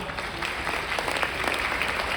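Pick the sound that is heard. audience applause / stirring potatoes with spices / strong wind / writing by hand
audience applause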